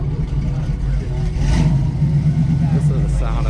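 1957 Chevy Rally Sport 327 convertible engine revving at a classic car club meet, a loud low rumble swelling and easing under outdoor crowd noise.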